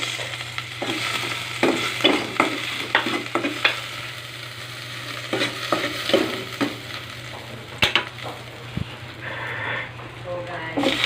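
Onions sizzling as they are stirred in a smoky pan for a Filipino sautéed vegetable dish, a steady frying hiss with repeated scraping stirs and a voice talking over it.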